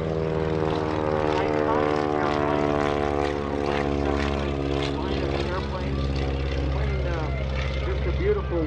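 A 1952 Cessna 195 propeller airplane drones past overhead in an airshow parade, its steady buzzing engine tone loud and close, shifting pitch slightly as it goes by.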